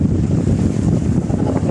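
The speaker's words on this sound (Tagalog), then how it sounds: "Yun, malakas yung hangin." A strong wind roars at sea aboard a small fishing boat, a loud, dense rumble of gusts buffeting the microphone over the wash of the water, without any voices.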